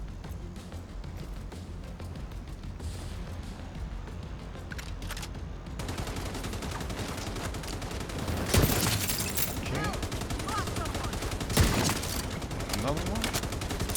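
Sniper gunfire in a video game match, sharp cracks standing out over a steady busy mix of in-game sounds, with a voice talking over it.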